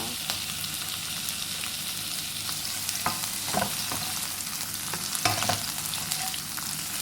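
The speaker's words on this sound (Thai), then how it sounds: "ผัดกุ้ง กับหอมใหญ่พอกุ้งเริ่มสุกนะคะ" Shrimp and onion stir-fried in a pan for a Thai shrimp-paste chili fried rice, giving a steady, close hiss of frying broken by a few sharp scrapes and clacks of the spatula.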